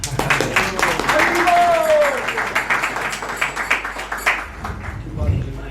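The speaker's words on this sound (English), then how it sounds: "we're going to give you a clap." Audience clapping at a church gathering in La Mercy, steady applause spread through the room and mixed with talking voices, lasting several seconds before tapering off.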